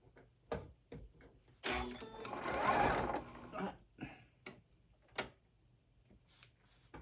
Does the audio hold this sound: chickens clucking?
no